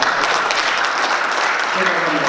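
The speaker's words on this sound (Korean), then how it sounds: "여러분 큰 박수 부탁드립니다" Applause from a seated audience at a Korean study-group lecture, a steady dense patter of many hands lasting throughout, fairly close and even in loudness with a general crowd wash underneath.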